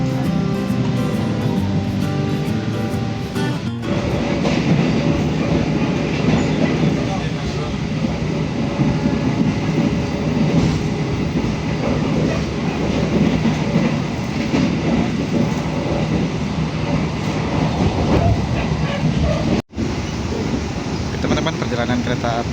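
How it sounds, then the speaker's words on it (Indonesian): Argo Wilis passenger train running on rails, heard from on board as a steady loud rumble with rail clatter over a long stretch, one brief dropout near the end. "perjalanan kereta api Argo Wilis sebentar lagi sampai di stasiun Madiun ya"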